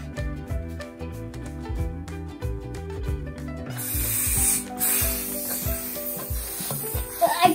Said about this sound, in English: You can blow the balloon or you can pump.